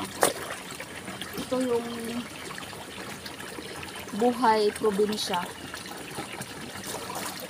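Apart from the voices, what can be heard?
clear spring water trickling in a province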